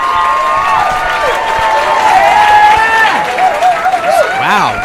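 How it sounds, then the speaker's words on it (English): Comedy club crowd at the Not Funny Lounge cheers and claps loudly for a returning comic, with whoops and shouts over a steady bed of applause. "So are y'all cheering for me?"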